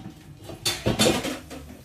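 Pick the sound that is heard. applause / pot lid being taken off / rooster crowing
pot lid being taken off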